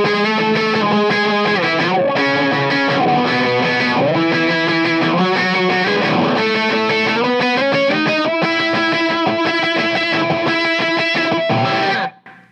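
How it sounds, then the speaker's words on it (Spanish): An electric guitar solo runs through a T-Rex Gull wah pedal with its built-in boost and drive, loud sustained bending notes with a sweeping filtered tone and chorus-like shimmer, playing continuously before cutting off abruptly at the end. "Y este Wah está increíble para hacer todo esto, porque tiene este boost y tiene un pedal de volumen."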